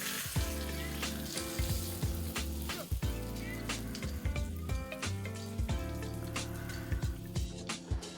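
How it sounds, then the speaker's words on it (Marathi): Hot tadka tempering poured over tricolour dhokla, giving a steady, close sizzling and crackling with several sharp spattering pops throughout, no voices. "हा तडका आपण याच्यावरती आता टाकायचा आहे"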